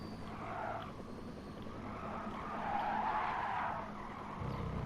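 Electric race car in the Gran Turismo Sport racing game, tyres skidding and squealing over a steady engine whine, continuous and fairly loud with no talk.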